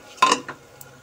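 A spoon scrapes and clinks against a pan while rice is stirred with chopped coriander, one sharp knock followed by a softer scrape and a faint tap, close and alone.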